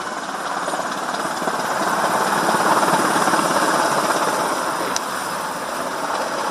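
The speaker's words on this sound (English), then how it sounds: "This US Black Hawk helicopter was forced to make an emergency landing on a street in Bucharest" A US Black Hawk helicopter in trouble over a street in Bucharest, rehearsing for Romanian Air Force Day, churns out a loud, fast rotor thumping over a heavy roar that swells and holds close, with a brief click near the end.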